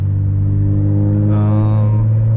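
A single-turbo BMW 335is pulls hard in third gear, a loud, steady low engine drone with a rising whine near the end, heard from inside the car.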